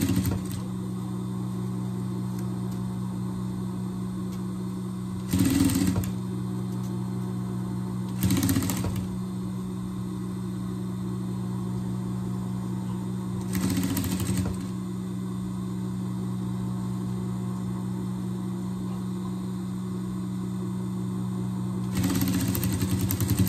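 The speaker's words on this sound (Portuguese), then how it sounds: "passar um overlock aqui e já volto" An overlock sewing machine running on fabric, a steady mechanical hum with several short louder bursts of stitching spaced a few seconds apart, close by and without talk.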